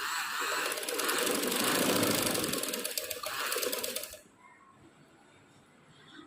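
A sewing machine stitches a strip onto a garment's back neck with a loud, close, steady whirring run for about four seconds, then stops and leaves a quiet room hum.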